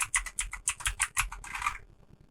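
Fingers type on a computer keyboard at close range, a quick run of crisp key clicks that speeds into a dense patter and then stops, leaving near silence.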